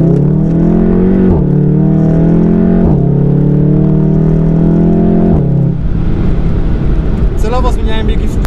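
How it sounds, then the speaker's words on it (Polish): A 2016 Volkswagen Golf 7 R with a 2.0 TSI engine and DSG gearbox accelerates hard from a rolling start, with loud rising engine notes broken by quick paddle upshifts and a brief crackle of exhaust pops near the end. "Celowo zmieniałem biegi szybciej na łopatkach niż chciałby to robić DSG, aby usłyszeć naprawdę ten strzelający wydech, który brzmi przepięknie"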